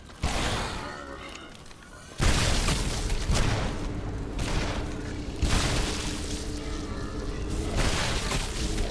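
Booming blasts of exploding creatures in the first-person action game Shadow Warrior, loud bursts landing around two, four and five seconds amid dense combat noise, with no talk over them.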